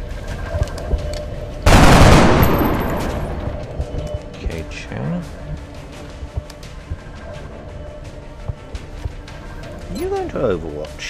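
In XCOM: Enemy Unknown, a loud burst of gunfire erupts close and then decays, followed by scattered softer battle noises, while voices talk throughout.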